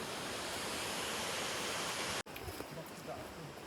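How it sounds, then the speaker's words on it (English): Pdem falls roars as a dense, continuous rush of falling water, loud and steady, then cuts abruptly to a quieter outdoor ambience with faint voices in the background. "so you can hear the sound of the waterfalls"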